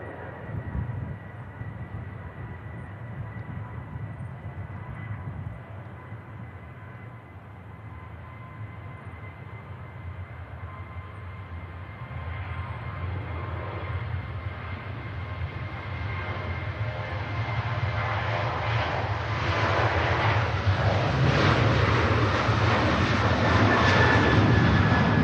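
A KLM airliner takes off at Manchester Airport, its jet roar building steadily from a low rumble to a loud, broad blast that peaks near the end, heard alone without talk.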